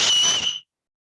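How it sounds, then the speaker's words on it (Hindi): A single loud, high whistle, steady and piercing, lasts about half a second and then cuts off into silence, with no talk around it. "मैं भी सीटी बजाता हूं आपके साथ"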